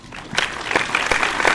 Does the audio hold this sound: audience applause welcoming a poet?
yes